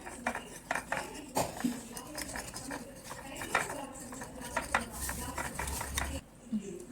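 Bun maska filling mixed in a bowl, with a busy run of clinking and scraping utensil strokes against the bowl, close and fairly loud, with some background voice mixed in.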